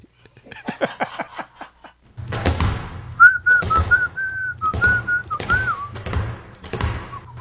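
A person whistles a wavering tune while skipping, over rhythmic thumping footsteps, preceded by quick tapping sounds.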